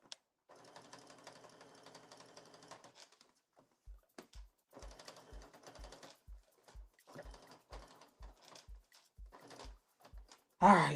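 A sewing machine stitching a hem on Blanton pants runs in quiet bursts, a fast mechanical whir with steady clicks and pauses between runs, close and soft, with a brief loud noise at the end.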